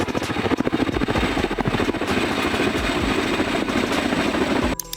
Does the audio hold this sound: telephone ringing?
no